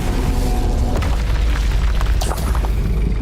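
The Incendio fire spell from Hogwarts Legacy is cast in a game: a loud, continuous roaring blast with whooshing bursts that fill the whole stretch.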